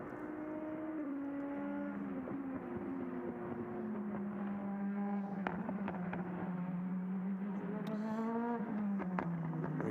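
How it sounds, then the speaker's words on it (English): Mercedes 4-litre V8 race car in a GT sprint cup race on track, its engine note rising and falling through gear changes, heard at a distance and fairly faint, with sharp cracks at moments. "Just enjoy the noise of that 4-litre V8 in the Mercedes"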